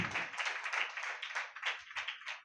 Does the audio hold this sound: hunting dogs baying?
no